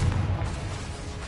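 A Confringo spell blast in Hogwarts Legacy, one short booming burst at the start that fades into a low rumble.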